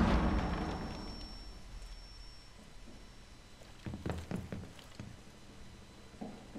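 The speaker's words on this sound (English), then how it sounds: "Throwing frag grenade." A frag grenade blast in Rainbow Six Siege on the Consulate map: a loud, deep boom opens the clip and rumbles away over a few seconds, followed by a few scattered nearby thuds and scuffs.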